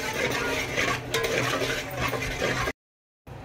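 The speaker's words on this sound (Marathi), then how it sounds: "हे आपण टाकून तेलामध्ये मस्त फ्राय करून घेऊया" Whole cloves, cinnamon, bay leaf and red chilli frying in hot oil in a pan, a steady close crackle with faint metal scrapes, then a sudden cut to silence before the frying resumes.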